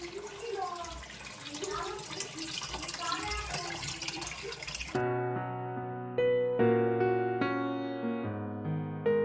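Tap water runs steadily into a home fish tank, a broad rushing hiss with a voice talking over it. After about five seconds, music takes over.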